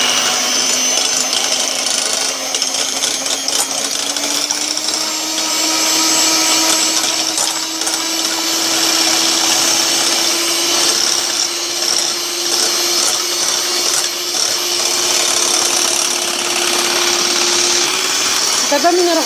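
An electric mixer whips egg whites for a lemon cream meringue cake, making a loud continuous whirring drone whose pitch slowly rises as the whites froth, close and steady throughout.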